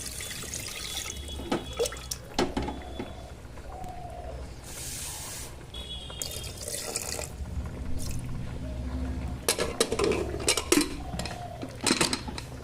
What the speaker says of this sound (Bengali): আমি প্রেসার কুকারে মটনটা দিয়ে দিচ্ছি, আর সামান্য জল দিয়ে